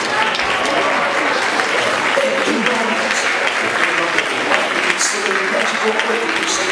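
An audience at a comedy magic show claps loudly for a magician's assistant returning to his seat, with a dense, continuous patter of hands and a few brighter claps standing out near the front.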